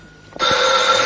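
A telephone bell starts ringing abruptly after a brief quiet moment, then keeps up a loud, continuous metallic trill close by with no one talking over it.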